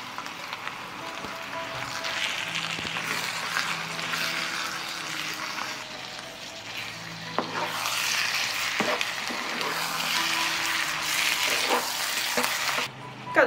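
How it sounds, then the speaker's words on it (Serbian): Meat frying and being stirred in a pan, a steady broadband sizzle running throughout with occasional scraping clicks from stirring, fairly close and moderately loud, with no voices. "Dodajem i meso i njega ću pržiti 10 minuta."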